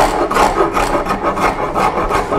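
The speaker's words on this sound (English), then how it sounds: "And I'm using a number 50 Nicholson rasp here." A Nicholson number 50 rasp files wood while shaping a trifid foot for a Queen Anne lowboy, giving steady, close rhythmic rasping strokes with no talk.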